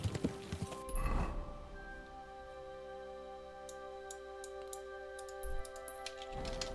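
Horse hooves clip-clopping in the medieval video game Kingdom Come: Deliverance II, a few faint hoof strikes over a quiet tonal game soundscape with soft sustained music, brief louder thumps near the start and end.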